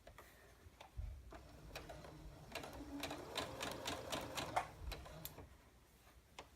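A sewing machine stitches an ear bud holder at a low, steady speed, its needle tapping in a quick, even rhythm at close range with no voices.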